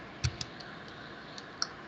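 Sparse clicks of typing on a computer keyboard, a handful of faint, irregular key taps over quiet room noise with no talking.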